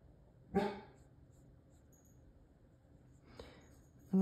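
Dogs in a home bark in short bursts, a few sharp barks near the start, another around three and a half seconds, and a loud one at the end, against a quiet room.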